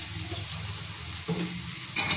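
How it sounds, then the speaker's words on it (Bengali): Banana flower frying in a pan with onion and spices gives a steady, close sizzle with soft stirring scrapes throughout, and a brighter burst of hiss near the end. "পেঁয়াজের সাথে মশলা ভাজা ভাজা করার পর আমি এবার দিয়ে দিচ্ছি মোচা।"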